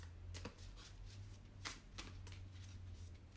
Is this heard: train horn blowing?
no